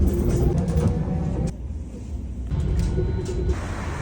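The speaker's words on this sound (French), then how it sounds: "Donc je me suis dirigé vers l'arrêt de bus pour premièrement prendre un bus et admirer la belle vue de Paris." Inside a city bus moving through Paris, a steady low engine rumble fills the cabin, with a brief quieter dip in the middle.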